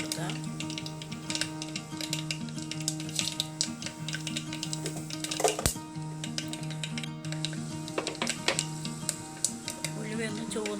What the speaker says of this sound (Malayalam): വെളിച്ചെണ്ണ ചൂടായ കടുക് പൊട്ടി തുടങ്ങുമ്പോൾ നമുക്ക് ഉലുവ ഇട്ട് കൊടുക്കാം.